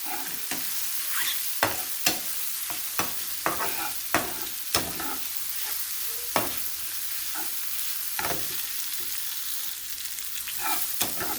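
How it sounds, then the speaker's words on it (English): Mushrooms and onions sizzle steadily in a frying pan on the stove while a utensil scrapes and stirs them, with repeated sharp knocks against the pan over a constant frying hiss. No one speaks. "So we have to wait until the mushrooms start fully getting cooked"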